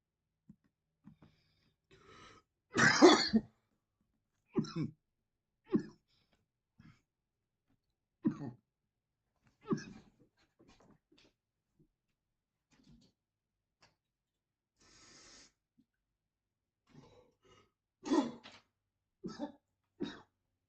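A streamer coughing and clearing their throat during a live gaming stream, with a string of scattered coughs, one strong close burst followed by lighter hacks and throat clears spaced across a quiet room.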